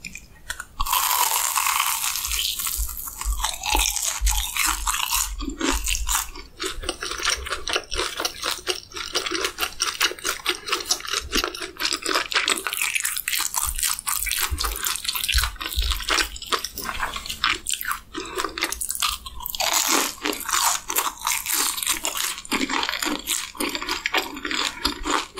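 Loud, close crunching bites and chewing of cheese-stuffed Korean corn dogs with seasoning, with dense crackly breading sounds and no talking.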